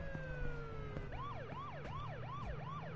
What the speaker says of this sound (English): Why would you turn that siren on, you idiot?